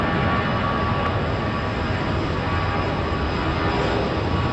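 A jet airplane departs Raleigh Durham airport, its engines a steady, loud, dense roar filling the whole stretch without letup or voices.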